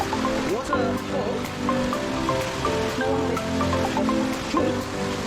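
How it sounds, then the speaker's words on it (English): Steady rushing water from a waterfall along a roadless foot trail near Rengpang and Namthanluang fills the clip as a constant broadband wash, with people talking and some tonal chirps over it. "We have started to see some waterfall."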